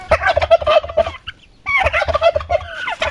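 A turkey kept among young turkey poults and chickens gobbles close by in two loud, rapid, warbling bursts separated by a brief pause.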